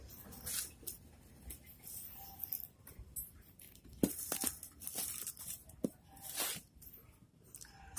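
Plastic packaging around a new aftermarket motorcycle exhaust for a Yamaha RX King is torn and crinkled open by hand, with irregular close bursts of ripping and rustling over several seconds.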